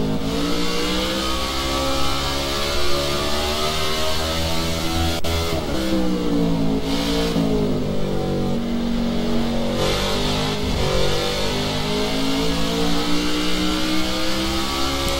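Race car engine in a NASCAR Xfinity-division racing game revs hard and continuously, the pitch dropping after a downshift and then climbing again, loud and steady for the whole stretch with no talking.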